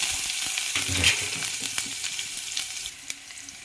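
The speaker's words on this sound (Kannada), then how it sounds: "ನಂತರ ಬೆಳ್ಳುಳ್ಳಿ ಕುಟ್ಕೊಂಡಿದ್ದನ್ನು ಹಾಕ್ತಾಯಿದ್ದೀನಿ" Crushed garlic hits hot oil with cumin for a garlic tamarind rasam, crackling in a close, steady sizzle with a few sharper pops.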